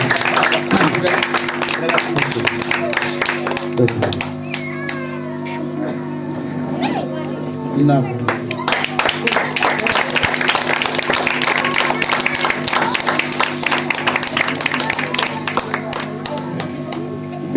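A church congregation in Bidar claps loudly and continuously, a dense sustained crackle of many hands, with voices and a few louder tones mixed in across the whole stretch.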